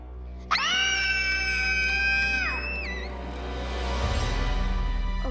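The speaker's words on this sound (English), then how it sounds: "Scream really loud." Several people scream loudly together, a piercing sustained outburst that starts abruptly, holds for about two seconds, then trails off into a rumbling crowd-like wash.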